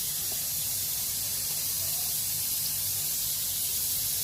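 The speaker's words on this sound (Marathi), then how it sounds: "आता ह्याला ह्याच्यात डीप करायचं आहे, फ्राय करायचं आहे." Vada batter dropped into a kadai of hot oil for deep frying, a continuous close sizzling hiss that holds steady and strong throughout with no pauses.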